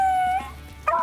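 A pack of four hunting dogs gives tonal, drawn-out barks while running, heard at a moderate distance over a steady low background rumble, with a louder burst of baying near the end.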